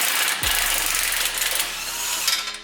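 An impact wrench removes the key bolt on a Z71 GMC Sierra truck during a leveling lift kit install, producing a loud, close, continuous rattling hammer burst that lasts about two seconds, with no speech.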